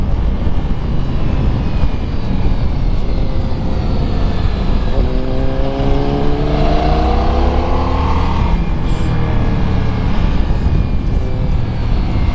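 Ducati Multistrada V4S 2021 ridden on a track, with loud constant wind rush and rumble, and a rising engine whine that sweeps upward and fades midway.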